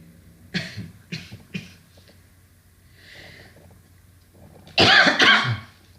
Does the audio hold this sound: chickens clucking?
no